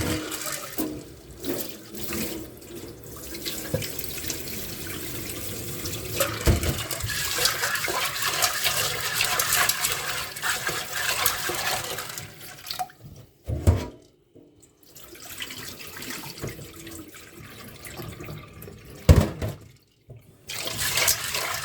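Tap water runs continuously over chickpeas being washed in a kitchen, a close broadband splashing rush that briefly cuts out and resumes, with no talking.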